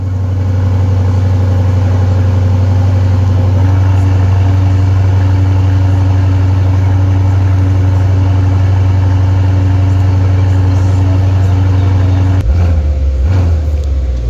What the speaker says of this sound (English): Now we get to hear the engine of the new DB12.